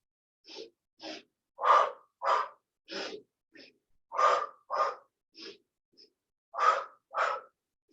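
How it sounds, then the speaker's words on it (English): Paced inhales and exhales during a Pilates workout, about a dozen distinct breaths spaced in an even rhythm, some stronger and louder than others, close and clear with no talking between them. "Inhale two, exhale two."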